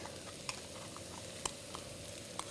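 Rice is stirred into massaman curry paste in a pan over a soft, steady sizzle, with a few sharp spoon clicks against the pan.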